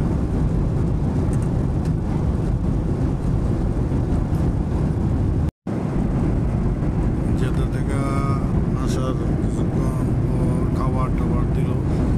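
Loud, steady roar of a jet engine inside an aircraft cabin on a night flight from Jeddah to Muscat, continuous broadband rumble with a brief cut, and faint voices underneath.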